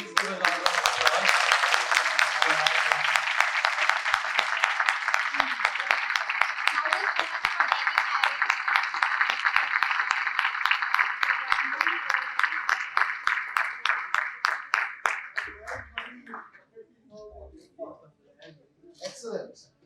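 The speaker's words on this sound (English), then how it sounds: "Please give a round of applause." Audience applause at a young innovator's award ceremony, a dense, loud burst of many hands clapping that holds steady for about fifteen seconds, then thins into scattered individual claps and fades out.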